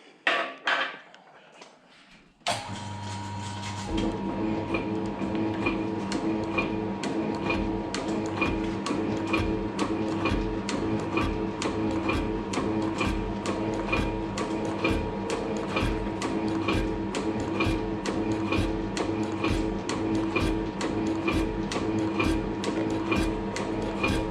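A metal shaper machine cutting a workpiece of unknown material: after a brief start, a steady rhythmic cutting stroke repeats evenly, knocking and clattering at close range under a constant motor hum.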